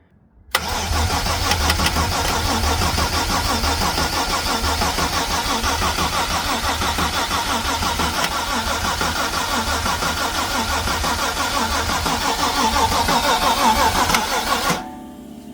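A VR6 engine fitted to a BMW E36 cranks and fires for the first time in cold weather, then runs loud and close at a steady, slightly uneven idle for about fourteen seconds before cutting off.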